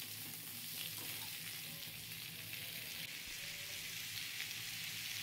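Small pieces of potato and pointed gourd fry in hot oil, giving a steady, fairly quiet sizzle with soft stirring, and no one speaks.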